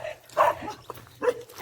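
A farm dog barks a few sharp, close woofs separated by short pauses, with quieter whines between.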